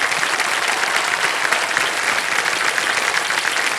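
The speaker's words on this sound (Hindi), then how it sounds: "तालियां बज जाए इनके लिए।" A studio audience at a televised quiz show claps steadily, dense sustained applause that fills the whole stretch at even loudness, with no talk.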